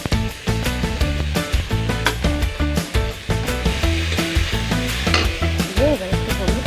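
Chopped vegetables sizzle in a pan with tomato and onion, giving a steady frying hiss with repeated stirring scrapes and knocks, close and fairly loud, with tonal background sound running throughout.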